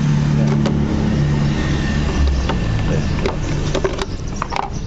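Toyota Fortuner with a 4A engine idles in a steady mid-pitched drone, close and fairly loud, with an engine stumble fault and occasional faint clicks over the continuous running.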